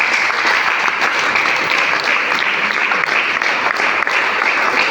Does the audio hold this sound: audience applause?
yes